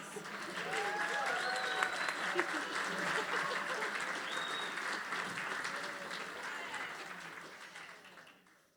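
Audience applause rises after a song at a livestreamed performance, a steady dense wash of clapping lasting several seconds at moderate volume, with faint voices underneath before it tapers off.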